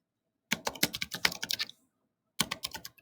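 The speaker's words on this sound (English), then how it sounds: "I'm going to use the computer to do the standard deviation" Quick bursts of typing on a computer keyboard, close and clear, a run of rapid keystrokes, a pause of silence, then another short flurry of key taps, with no talking.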